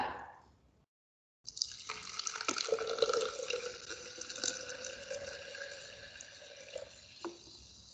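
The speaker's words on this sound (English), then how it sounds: "I'm going to fill up with some sparkly water, carbonated water" Carbonated sparkling water pours and splashes into a container, a steady fizzing, bubbling stream heard close up for several seconds after a short silence, with a small clink near the end.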